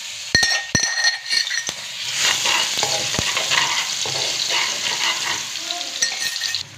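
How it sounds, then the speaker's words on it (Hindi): Garlic dropped into hot oil with browned onion and tomato paste for a Pakistani egg and potato curry, giving a steady close sizzle and fry with spoon stirring and sharp clinks against the pan throughout. "अब मैं लहसुन ऐड करूंगी उसी ऑयल के अंदर।"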